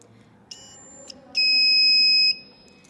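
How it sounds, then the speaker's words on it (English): A homemade metal detector's buzzer, wired to a copper coil, gives two short high-pitched beeps followed by a sustained piercing electronic tone lasting about a second, loud and close in an otherwise quiet room. "our buzzer connected to the copper coil is turned on and it functions"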